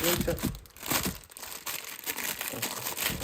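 Plastic packaging for a Xiaomi phone case crinkles and tears in close, busy bursts of rustling, with no talking.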